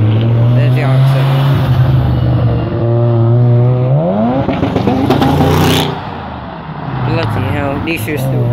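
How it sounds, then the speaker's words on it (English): A Mazda RX-7 at a car meet revs hard and pulls away, its engine note climbing loud and close with other cars running nearby and people talking around it. "And the RX-7's going."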